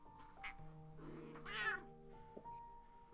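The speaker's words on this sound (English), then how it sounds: "Sorry, I have cat." A cat gives a couple of soft, drawn-out meows close by in a quiet room, with one longer wavering call in the middle amid faint background hum.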